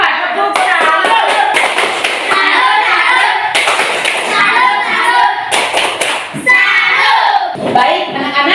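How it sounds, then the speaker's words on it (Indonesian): Children in a classroom clap together in a salute cheer for the Mawar group, dense rhythmic hand claps filling the room with bursts and brief pauses, loud and close. "kita berikan tepuk salut untuk kelompok Mawar. Tepuk salut."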